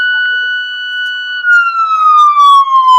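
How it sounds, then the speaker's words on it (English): A loud electronic siren wails at a baseball game after a run scores, a steady tone that bends downward, sounding alone without talk. "So there goes the siren."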